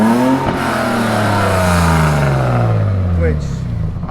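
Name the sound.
Toyota Land Cruiser 80 Series engine exhaust revving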